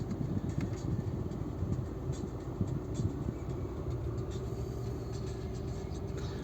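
A 2012 VW Golf 6 with a 2.0 TDI diesel and automatic gearbox idles steadily, a close, even low rumble holding without surges, with light ticking above it and no voices.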